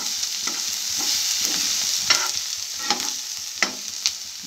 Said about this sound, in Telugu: బాగా వేగుతున్నాయి, కొంచెంసేపు వేయించాలన్నమాట.